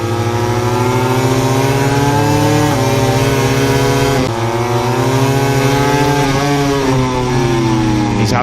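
A MotoGP racing motorcycle at the 2020 Catalunya round screams up through the gears, its loud high-revving engine climbing in pitch then dropping at each upshift, with other bikes blending in the continuous roar.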